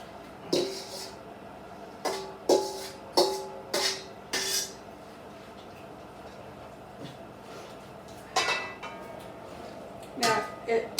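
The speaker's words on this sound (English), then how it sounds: "I'm going to put my cucumbers in my pan" Sliced cucumbers dropping into a pan in a home kitchen during sweet pickle canning, heard as a series of sharp, clattering knocks in two bursts with a quiet gap between them.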